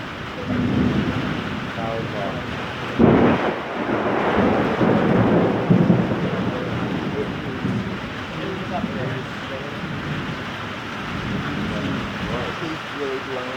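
Severe thunderstorm with very heavy rain and damaging winds, a loud nearby thunder crack early on followed by rumbling over steady pouring rain, with people talking faintly at times.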